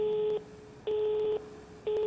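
A telephone rings in the PS4/PSVR horror game Rise of Insanity: an electronic ring of three clear tonal bursts, each about half a second long, repeating roughly once a second with quiet gaps between, fairly loud and alone.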